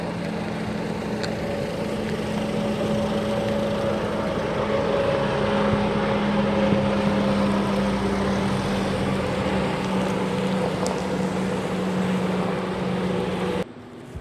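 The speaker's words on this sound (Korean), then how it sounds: "바다 같은 호수의 모터보트들이 신나는 굉음을 내며 쏜살같이 달려나가 그리는 포말이 기분을 업시킵니다." Motorboats race across a wide, sea-like lake, their engines a loud, steady drone with sustained tonal hum held throughout, ending abruptly.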